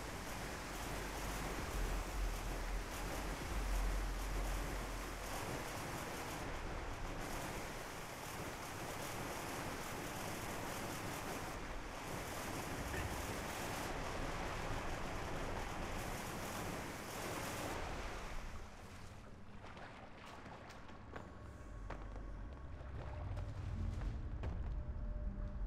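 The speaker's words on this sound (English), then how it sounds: "You fill the mine with water, and we swim back up to the bridge." Water surges to flood a mine in the Archeage online game: a broad, steady roaring rush like heavy surf fills most of the stretch, then thins and drops back before a low rumbling swell rises again near the end.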